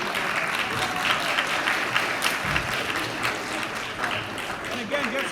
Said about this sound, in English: a round of applause for our demo